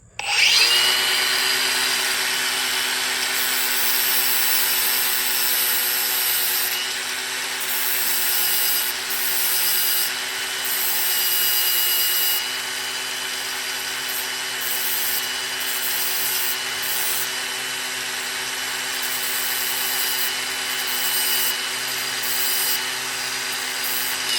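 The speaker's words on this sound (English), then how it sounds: "So I got my little grinder." A small angle grinder grinds steadily at the bent, worn metal edge of a Caterpillar mini excavator track part, a loud continuous high whine holding for the whole stretch with slight dips in pressure and no talking.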